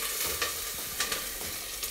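Onion and butter sizzling in a pan, a steady hissing crackle with a few scraping stirs, close up, no talking.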